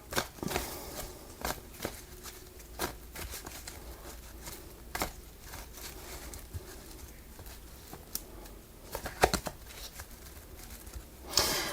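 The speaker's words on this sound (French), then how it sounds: "Je suis en train de battre les cartes" Tarot cards being shuffled by hand, a soft papery patter of riffles and slaps in scattered bursts, close and fairly quiet, with no talk over it.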